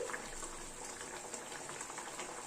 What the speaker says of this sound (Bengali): 3-4 মিনিট মতো মাছগুলো ঝোলের সাথে ফুটলো